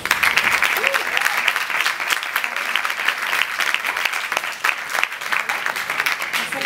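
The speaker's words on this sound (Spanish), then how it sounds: "Así que un aplauso para ella." A crowd claps and cheers continuously, a dense, steady wash of applause from start to finish.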